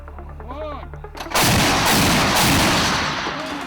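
An S-60 anti-aircraft gun fires during combat use in Donetsk region, a sudden loud blast followed by a rolling, sustained roar of rapid reports, preceded by a faint voice.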